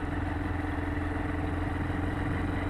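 A motorcycle rides through Wadi Jinn near Madinah, Saudi Arabia, its engine giving a loud, steady droning hum with a faint rhythmic pulse, close and continuous with no break.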